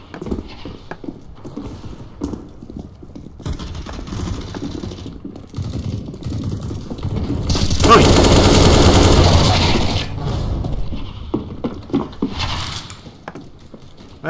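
Rapid gunfire rattles in Counter-Strike: Global Offensive, with quick bursts and single shots among clicky keyboard tapping, swelling into a dense, louder stretch of shooting midway before easing back to scattered shots.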